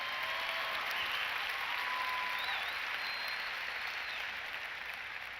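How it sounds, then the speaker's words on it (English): A large convention crowd at the National FFA Convention keynote applauds in a steady, distant roar of clapping that holds evenly throughout with no speech on top. "yeah, you can applaud to that."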